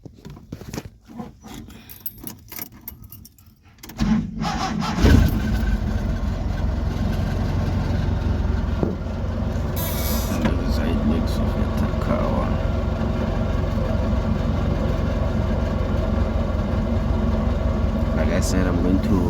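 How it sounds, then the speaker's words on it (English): A car engine starts about four seconds in, following quieter handling noises, then settles into a steady low idle that continues to the end, with a person talking over it. "I'm gonna turn the car on."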